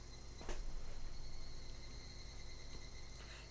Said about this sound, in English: Dude, we're talking about cicadas here.